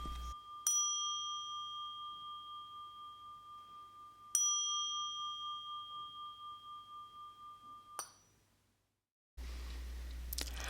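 Three strikes of a dead beat bell during Zen prostration, each a clear ringing ding with a long sustained tone, spaced a few seconds apart, followed by a brief silence and then room noise.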